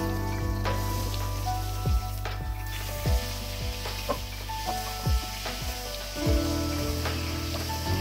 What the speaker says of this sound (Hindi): अब आलू को ऑयल में फ्राई करें 2 से 3 मिनट तक और गोल्डन होने पर निकाल लें।